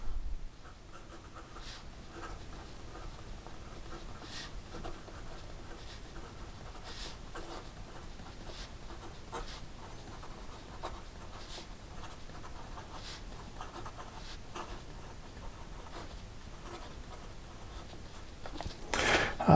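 Medium Jowo steel nib on a fountain pen glides across paper, giving a soft continuous scratch with faint stroke ticks, close and quiet, with no voice over it.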